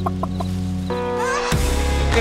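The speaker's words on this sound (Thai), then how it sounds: "ไก่ตัวนี้ก็น่าสนใจเหมือนกันนะ" Chickens cluck in the farming game Farming Simulator 25, a few short close clucks followed by a longer rising squawk and a sharp burst, with a steady low background hum.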